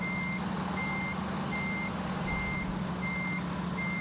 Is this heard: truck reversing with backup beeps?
yes